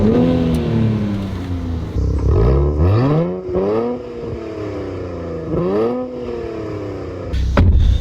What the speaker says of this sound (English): We'll do one more full throttle, well, half throttle, full throttle.